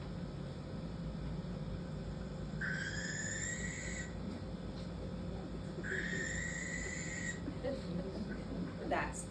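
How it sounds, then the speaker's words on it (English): A barn owl gives two long, harsh, hissing screeches a few seconds apart, heard at night over a steady background hum of insects and ambient noise. "That's the barn owl."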